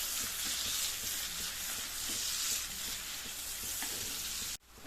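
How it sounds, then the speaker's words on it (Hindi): Two medium sliced onions fry in oil and butter for butter chicken, a loud, dense, continuous sizzle close up with faint stirring crackles, cutting off abruptly at the very end. "2 मीडियम साइज ऑनियंस हैं जिनको स्लाइस अप किया है, उसको इसमें ऐड करेंगे और हल्का सा पिंकिश होने तक फ्राई कर लेंगे"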